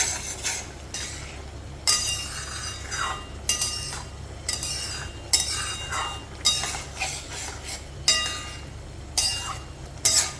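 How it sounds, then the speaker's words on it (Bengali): A spoon scrapes and clinks against a pan in a regular rhythm of about one stroke per second while turmeric is stirred into tomato chutney, with each stroke sounding close and crisp over a faint low background hum. "এবারে নাড়তে থাকবো, একটু হলুদটা যাতে মিশে যায়"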